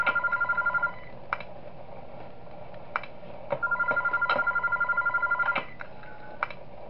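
Telephone ringing in the horror video game Those Nights at Wario's 3, sounding in long pulsing bursts with short gaps and sharp clicks between, loud and close with no talking.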